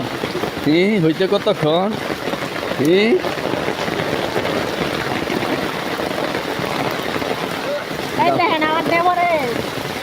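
Steady rain hisses down across an outdoor fishing spot, a constant wash of noise with people talking loudly over it at the start and near the end.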